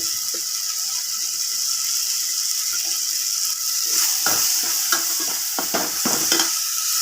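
Spices and turmeric powder frying in oil in a pan for a squid curry, a steady bright sizzle throughout, with scraping stirring strokes clustering near the end.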